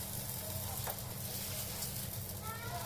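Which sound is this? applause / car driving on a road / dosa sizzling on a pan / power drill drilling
dosa sizzling on a pan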